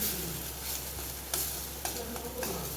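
Chutney stirred and cooked in oil in a pan, a continuous close sizzle broken by several sharp spoon scrapes and knocks, with no talk.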